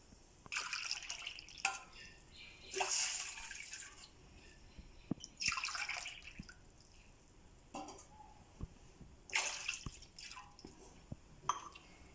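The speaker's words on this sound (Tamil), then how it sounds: "அந்த டம்ளரால் 3 டம்ளர் தண்ணி சேர்த்துக்கோங்க" Water is poured into a pan of semolina for white kesari in several short splashing pours with trickling and drips between them, close but fairly quiet.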